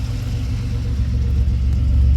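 A 1994 Chevrolet Cavalier Z24 convertible's 3.1-liter engine idles with a deep, steady, mellow low rumble, close by, swelling slightly louder toward the end.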